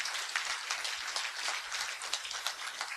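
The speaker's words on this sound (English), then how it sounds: "Please give them a round of applause." Audience applause for volunteers at CircleCityCon, a hacker conference closing ceremony: steady dense clapping from a crowd, moderately loud and continuous throughout with no voices over it.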